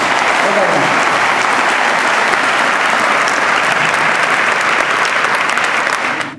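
An auditorium audience applauds at a campaign rally in Tarragona, a loud, dense and steady wash of clapping from many hands that keeps going for several seconds before it fades at the end.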